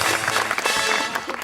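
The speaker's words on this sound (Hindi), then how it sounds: "इनके लिए ताली होनी चाहिए बहुत सारी।" Studio audience applause on a Pakistani talk show, a dense, continuous wash of many hands clapping at steady loudness for a moment, with no talk over it.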